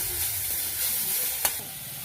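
Taro leaves fry in a hot pan with a steady, close sizzle and hiss, broken by one brief sharp crackle.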